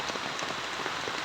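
Steady, dense rain patters down by a stream during a fishing outing, a close, even hiss of drops with no voices.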